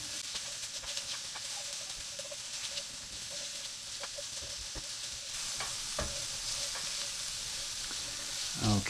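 Sauce for a pumpkin spice lasagna cooking down in a pan, a low steady sizzle and hiss with scattered small pops and occasional stirring clicks, close and without talk.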